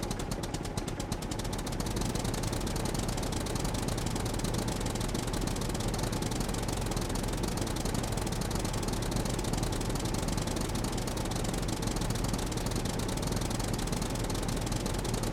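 A tractor engine idles in the survival video game Scum, a steady dense rumbling drone with fast knocking pulses that stays constant and close throughout, with no talking.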